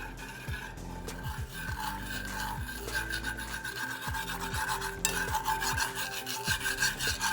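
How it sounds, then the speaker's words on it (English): A whisk stirs sugar into a sushi rice seasoning mixture in a bowl, making a continuous close scraping and rasping with repeated rhythmic strokes and no talking. "you're just going to stir it with a whisk until the sugar dissolves"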